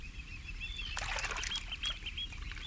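Oystercatchers call on open tidal mudflats with thin, high, repeated piping notes at moderate distance. A brief burst of busier calling rises midway over a quiet background.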